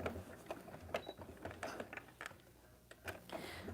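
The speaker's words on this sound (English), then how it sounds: "If the sewing machine noise doesn't drive you crazy." A Brother sewing machine runs with a fast, ratcheting mechanical clatter, fairly quiet and close, with the rhythm briefly easing before picking up again.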